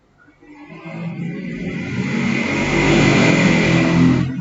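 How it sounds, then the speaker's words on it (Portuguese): A motor vehicle, most likely a motorcycle, passes through a residential neighborhood, its engine rising from faint to loud and steady as it approaches close by, with no talking. "Moto é o que mais tem no meu bairro aqui."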